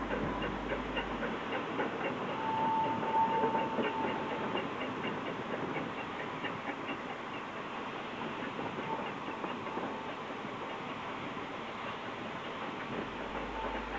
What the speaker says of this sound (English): How's this for the runaway train?